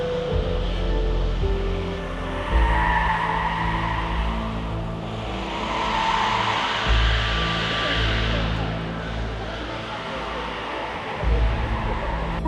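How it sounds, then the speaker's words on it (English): A VW bus makes a launch start with engine noise and tires skidding, heard from a distance amid broad outdoor rumble, with brief surges of squeal and a few thumps. "Let's see the VW bus do a launch."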